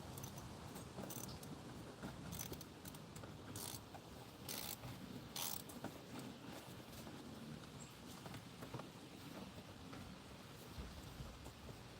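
Bolts are tightened in a crisscross pattern, the way a tire is tightened, producing faint, irregular ratcheting clicks over a constant background hiss.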